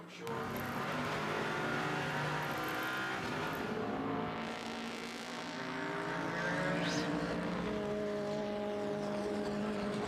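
GTE Pro race cars battle in a line at the 24 Hours of Le Mans, producing a continuous blend of engine drones with rising and falling revs, heard at moderate distance.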